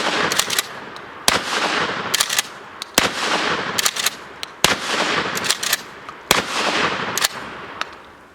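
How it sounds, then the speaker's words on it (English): Remington Model 870 shotgun firing buckshot: a steady series of loud, sharp blasts, roughly one per second, each trailing into a broad ringing decay. "Now we're going to shoot some buckshot."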